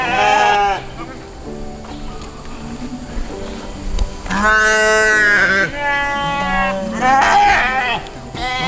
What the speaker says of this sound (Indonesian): Ini juga ada domba masyarakat juga di sini Pak.